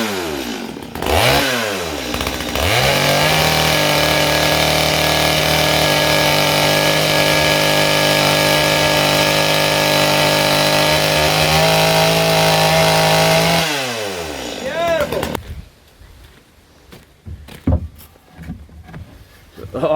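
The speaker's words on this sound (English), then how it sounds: "For that we need a precision saw to cut it." A precision power saw cuts wood for a boat, its engine revving up into a loud, steady whining cut for about eleven seconds before winding down, followed by scattered clunks and handling noises.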